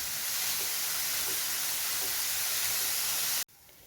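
Carrots sautéing in a pan give a loud, even hiss of sizzling oil that cuts off abruptly near the end, leaving a quieter hush.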